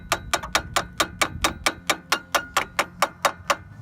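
Fifteen or so sharp metallic taps strike a mini bike V-twin engine's starter at an even, quick pace, close and distinct, each a bright click against a low hum.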